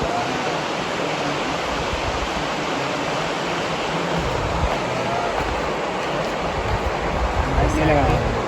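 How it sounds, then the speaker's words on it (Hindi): The Mandakini river rushes with a strong flow through a deep forest gorge near Chitrakoot, giving off a steady, broadband roar that stays loud and unbroken throughout, with no talk over it. "और इधर माँ मंदाकिनी अपने पूरे प्रवाह के साथ निश्चल तरीके से"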